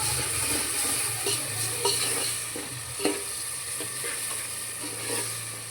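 A sour tamarind mixture is stirred in a cooking pot over a steady bubbling sizzle, with soft scraping strokes of a spoon recurring at an irregular rhythm, close by.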